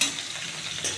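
Garlic and green chili paste sizzling in hot oil in a kadhai, a steady close hiss of frying across the whole second with a brief swell near the end.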